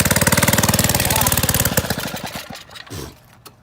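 A custom budget mini bike engine pops rapidly and loudly up close, then fades as the bike pulls away and the throttle drops. A voice briefly sounds near the end.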